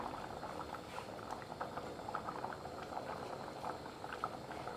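A pot of water at a rolling boil, continuous close bubbling and gurgling at an even level with no one talking.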